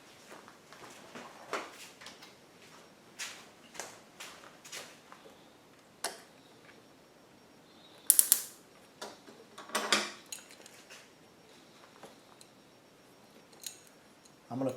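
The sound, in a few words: fitting a hose clamp on a generator fuel hose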